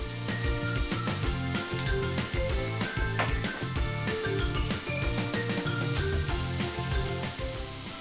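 Garlic and ginger sizzle in a pan over low heat, a steady, close crackle of frying that holds even and unbroken throughout, with no voices.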